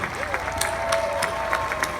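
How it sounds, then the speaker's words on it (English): Applause from a crowd at the Wizarding World of Harry Potter premiere party at Universal Studios, steady and sustained throughout, with a faint tonal sound drifting underneath. "How about an added round of applause for Tim Runco"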